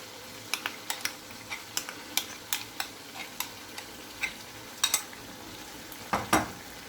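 Ground almonds and yogurt are stirred in a cooking pan over the flame, with a low sizzle underneath and a string of sharp, irregular spoon clicks and scrapes against the pan; no voices.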